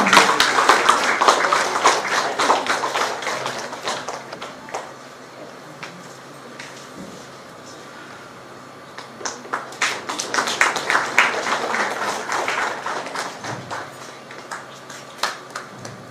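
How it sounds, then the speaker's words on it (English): At a faculty development programme welcome ceremony, an audience applauds in two rounds of steady clapping, with a quieter lull between them. The claps are moderately loud and a little sparse toward the end. "With a big round of applause, we welcome you."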